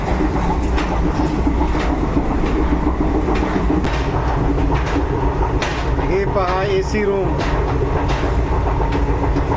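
Nagpur–Madgaon passenger train running on the rails, a steady loud rumble with rhythmic clatter throughout, with a person talking over it partway.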